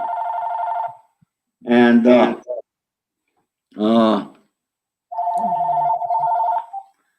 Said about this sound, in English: my phone rings constantly